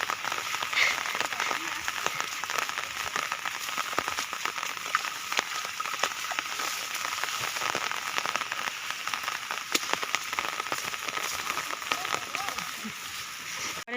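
Steady rain patters densely on a surface, a continuous close hiss of drops with faint scattered ticks.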